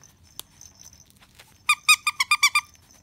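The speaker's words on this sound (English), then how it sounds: "it's only the feet that squeak" A plush toy's squeaky feet are pressed in a quick run of six sharp, bright squeaks, close and loud after some soft handling noise.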